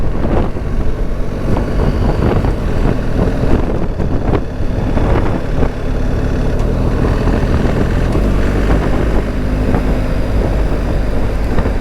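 A 2025 BMW GSA 1300 motorcycle being ridden as it shifts down through the gears, the engine note dense and continuous with heavy wind rush over the microphone and no talk.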